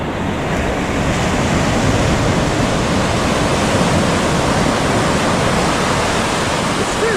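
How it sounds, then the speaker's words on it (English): Steady roar of Pacific ocean surf washing onto a beach at a resort in Vallarta, Mexico, loud and continuous with a broad hiss and no voices. "We'll just take a moment and listen to the waves."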